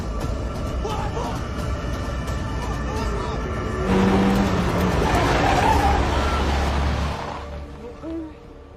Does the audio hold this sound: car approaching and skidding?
yes